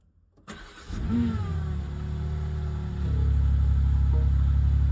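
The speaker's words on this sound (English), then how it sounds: "Car sounds so mean." A BMW G80 M3 manual engine starts, then runs with a steady low rumble that grows louder and fuller partway through, close by.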